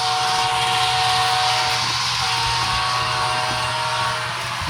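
Two high-speed model railroad trains running at once on a home layout, a loud, steady electric motor whine and rolling rumble with sustained tonal hum, holding constant before easing slightly at the end, no talk.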